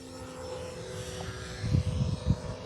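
An E-flite Cherokee RC airplane's electric motor buzzes in flight, a steady droning whine at a distance, with throttle surges showing as louder low bursts toward the end.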